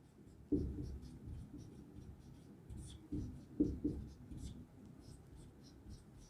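Chalk or marker writing on a classroom board during a lecture, a few scratchy strokes and taps at an even close distance, quiet between strokes.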